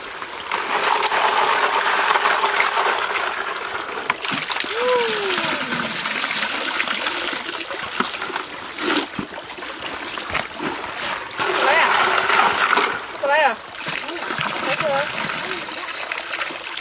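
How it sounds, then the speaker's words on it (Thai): Shellfish are rinsed in water with steady sloshing, splashing and pouring that runs almost the whole time, close and fairly loud. A person talks over the water noise. "ล้างหอยก่อน"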